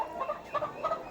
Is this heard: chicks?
yes